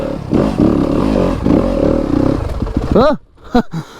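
A 2025 Yamaha YZ250FX dirt bike out in the desert runs loudly under a voice, then its engine winds down and cuts off with the clutch pulled in, leaving a near-silent pause.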